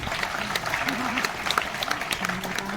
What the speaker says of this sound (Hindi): तालियां बजाने की बात थी।